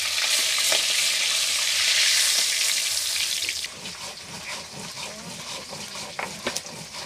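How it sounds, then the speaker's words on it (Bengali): Pieces of rohu-type fish fry in hot oil in a pan, a loud steady sizzle that later thins into crackling and spitting, with light clatter of a utensil and no speech. "মাছ ভাজা হয়ে গিয়েছে, এবারে একটা একটা করে মাছ ভাজা তুলে নেবো।"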